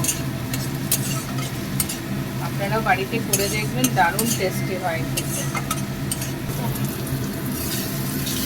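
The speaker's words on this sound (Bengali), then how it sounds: "এবার এটার সাথে ভালো করে মাখিয়ে নিয়ে 3 মিনিট একটু নাড়াচাড়া করব।" Masala and fried eggplant being stirred and tossed in a pan of oil for a tangra fish curry, with a steady sizzle and scraping stirs, a person talking over the cooking throughout.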